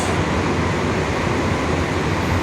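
An air-conditioned EMU suburban electric train runs steadily between Mambalam and nearby stations, giving a continuous, fairly loud broadband rumble of wheels and onboard noise with no pauses or voices.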